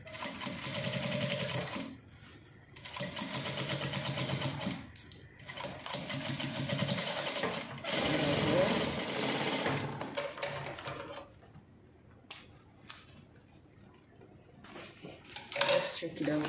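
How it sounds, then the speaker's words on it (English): Sewing machine back stitching a danshiki dress, bursts of rapid mechanical stitching alternating with pauses, loud and close, stopping and starting several times before a few short clicks and brief taps at the end. "So I'm just going to back stitch."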